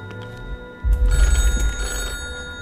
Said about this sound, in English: Answer the phone, man!